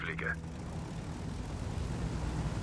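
Steady drone of an airplane in Ghost Recon Wildlands, a continuous low engine hum with a brief higher blip at the very start, held evenly throughout.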